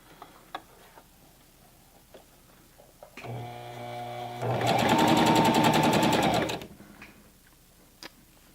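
A Singer Classic Heavy Duty sewing machine whirs into a short run of fast, evenly ticking stitches lasting a couple of seconds, loud and close, with quiet clicks and handling noises before and after.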